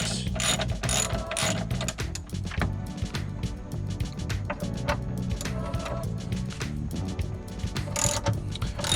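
Hand ratchet clicking steadily as it removes 6mm seat bolts inside a Sprinter van, a dense, continuous run of close metallic ratcheting strokes with no talk.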